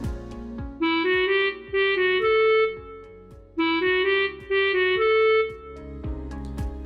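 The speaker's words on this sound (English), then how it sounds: "Next to Jack, you've got Milky White and the cow theme." Milky White's cow theme from the musical Into the Woods: a plodding instrumental figure of sustained melody notes over steady staccato bass chords, repeated twice in matching phrases, heard alone.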